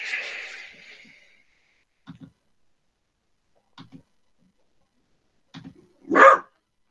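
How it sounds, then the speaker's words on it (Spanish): A dog gives a few short, soft bark-like sounds in spaced pairs over near silence, then one louder, sharper bark at the end. "No te pongáis a ladrar aquí, pues estoy haciendo clase"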